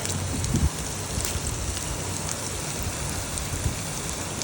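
Potatoes fry in oil for biryani, a dense, steady crackling sizzle like light rain that fills the whole moment at low volume, without any talking.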